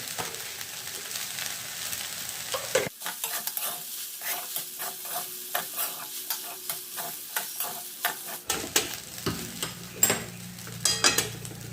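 Poha being stirred with salt in a pan, with haldi already added: a steady, rhythmic scraping and soft sizzle, close and alone, with the stirring strokes repeating evenly throughout.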